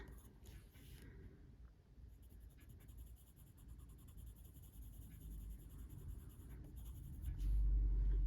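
Coloured pencils scratching across the page of a colouring book, with soft continuous strokes close up and faint in a quiet room, ending in a low thump.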